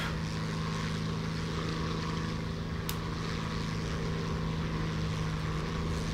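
Steady propeller drone of a Stuka dive bomber in War Thunder on a bombing run, a constant loud engine hum with one brief sharp click partway through, no talk.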